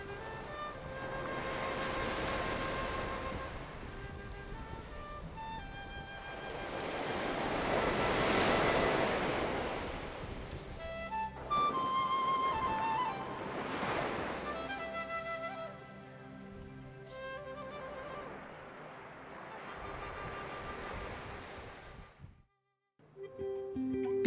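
Sea waves on a sunny beach rise and fall in a few broad, hissing surges of surf, with wind blowing over the shore and a brief drop near the end.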